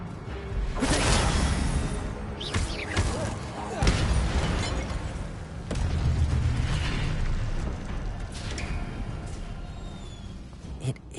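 Incendio fire spell cast repeatedly in Hogwarts Legacy, loud whooshing bursts and crackling blasts of flame rolling over one another with booming impacts, close and continuous.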